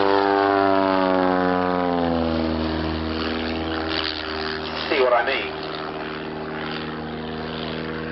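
An aerobatic aircraft with a 200 horsepower Lycoming engine drones steadily overhead, its propeller note shifting in pitch as it passes, with someone speaking briefly over it.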